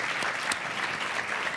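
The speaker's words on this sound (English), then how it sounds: "round of applause out there for that one" A crowd applauds steadily and evenly at moderate distance after a good question during a mindfulness talk, with no voices breaking through.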